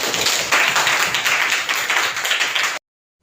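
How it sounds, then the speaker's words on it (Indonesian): A classroom of students applauds a classmate, a dense burst of hand clapping at close range that runs steadily for nearly three seconds and then cuts off abruptly into silence. "Tepuk tangan buat Cantika"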